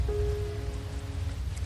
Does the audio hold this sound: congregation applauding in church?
no